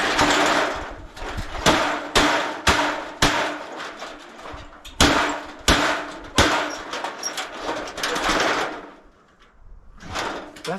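A hammer repeatedly striking the hard plastic casing of a scrap ice maker: a long series of sharp, loud close knocks and cracks at irregular intervals, with a brief pause near the end.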